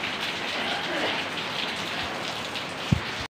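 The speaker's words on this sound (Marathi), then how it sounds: "ते म्हणजे मुसळधार पाऊस आहे" Heavy rain pours down steadily and close by, a dense continuous roar of drops on surfaces with a single brief thump near the end.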